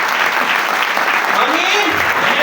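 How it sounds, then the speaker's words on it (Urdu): A church congregation at an Urdu/Hindi sermon breaks into loud, dense, sustained applause that fills the whole stretch, with voices mixed into the clapping. "آئے زوردار تالیاں خدا کے کلام کے لیے."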